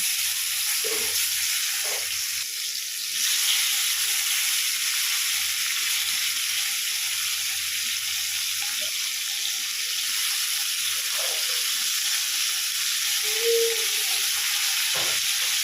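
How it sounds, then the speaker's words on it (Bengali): Fish frying in mustard oil in a wok makes a steady, close sizzle that runs unbroken throughout, with a few faint clinks and no talking. "এবার আমি একটা কড়াই বসিয়ে মাছগুলোকে ভেজে নেব"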